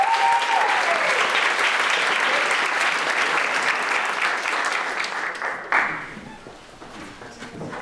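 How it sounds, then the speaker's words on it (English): A lecture audience applauds as the speaker is introduced, a sustained dense wash of clapping that carries on steadily, then thins and fades near the end. "Please give a big round of applause for Dr."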